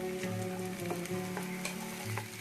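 Chopped tomatoes and onions sauté in a pan for a South Indian Chettinad chicken curry, giving a dense, close sizzle with repeated stirring scrapes and clinks at an uneven rhythm.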